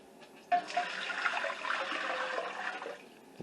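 Water poured into a pot for canning chopped okra, a steady broadband splash and gush that begins abruptly and runs close and fairly loud for about three seconds before stopping.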